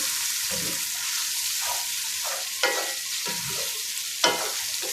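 Vegetables for beeh palak fry in a pan with a constant bright sizzle, while intermittent stirring scrapes and two sharper clanks of the spoon sound close by, with no speech.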